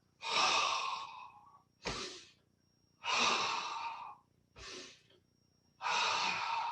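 Slow, deliberate breathing during a qigong exercise, long airy exhales alternating with shorter inhales in a steady rhythm, close and fairly quiet, with no talk.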